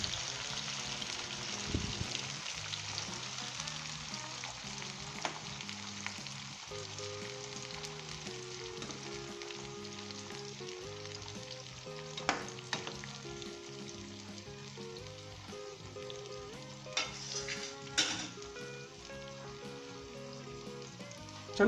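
Mango pieces for a Hyderabadi mango pickle are mixed in a pan of hot oil, giving a quiet, continuous sizzle with a few sharper crackles and stirring sounds. Soft tonal music plays underneath.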